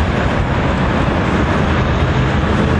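Minsk metro train running steadily underground, a loud continuous rumble and roar with no breaks, filling the whole stretch without any voices.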